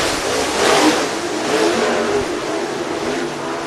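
Race cars at Cherokee Speedway in Gaffney, South Carolina, roar under acceleration at the green flag start of a Cherokee Chief Series race, a loud, close, sustained engine snarl of several cars together that swells and then holds steady.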